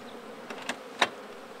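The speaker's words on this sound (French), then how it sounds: "les abeilles butinent très, très bien aujourd'hui" Honey bees buzz around hives kept on stands inside a building on a warm day, a faint steady hum with a few brief louder passes of single bees close by.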